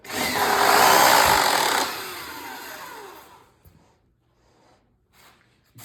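A handheld drill drives a homemade table saw lathe, whirring loudly for about two seconds before winding down and fading to near silence, with a few faint clicks after.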